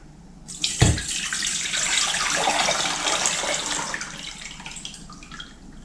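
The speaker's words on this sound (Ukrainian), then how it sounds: "Тепер переливаю в кастрюльку." Water runs steadily into a saucepan, a continuous rushing pour with a brief clunk near the start, tapering slightly toward the end.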